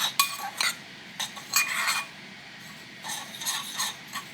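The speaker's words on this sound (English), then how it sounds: "We're just going to stir it up." A spoon stirs homemade ranch dip in a bowl, scraping and clinking against the sides in short bursts, with a pause in the middle before more stirring.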